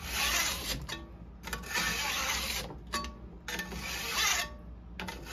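A file dresses the rails of a chainsaw bar to remove a burr. It makes steady, rough rasping strokes that come in long pushes with short pauses between them, close and moderately loud.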